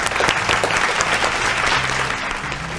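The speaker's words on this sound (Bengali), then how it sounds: "জোরে হাততালি দুই পরিবারের জন্যই" An audience at a family game show claps loudly for both competing families. The applause is dense and sustained, filling the whole stretch at close range.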